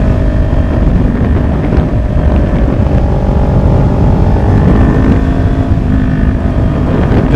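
A Ninja 400 motorcycle leaning through turns, its engine a steady close drone mixed with heavy wind rush over the microphone, loud and continuous with no talking.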